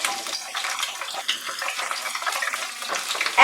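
Cauliflower and other vegetables for a vegetarian biryani fry in hot oil with a bright, busy sizzle and crackle, close and continuous, ending in a louder burst.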